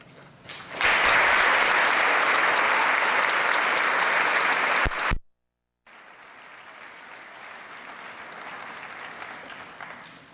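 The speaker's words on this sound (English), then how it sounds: "Please hold your applause until all names are recognized." A school recognition ceremony audience applauds loudly for about four seconds, then a sudden cut to silence, followed by softer, more distant clapping that continues to the end.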